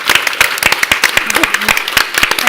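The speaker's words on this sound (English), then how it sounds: "let's give the marketing team quickly a hand of applause." Audience applause at a Women's Day dialogue event, a loose patter of claps from a nearby crowd with a voice briefly talking over it.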